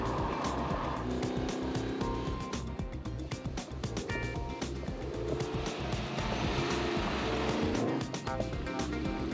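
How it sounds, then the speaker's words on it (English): A Lamborghini Jalpa's Italian V8 engine revs and roars up through the gears close by, its loud rasping note rising and falling steadily under a constant ripple of exhaust pulses. "the 8-note crescendo of an Italian engine sounds"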